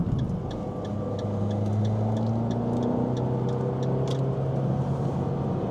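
Engine of a 2014 Fiat 500 Abarth with a manual transmission, heard from inside the car as it accelerates in second gear. A steady, rising drone continues throughout, with road and wind noise underneath.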